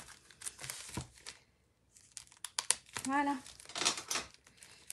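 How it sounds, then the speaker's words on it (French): Small scissors snip and crinkle against the packaging of a boxed display case, giving dry clicks, rustling and a short rasping cut up close. Someone speaks briefly in French. "je vais prendre une petite paire de ciseaux"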